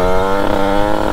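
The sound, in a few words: Rieju MRT Pro 86 motorcycle engine running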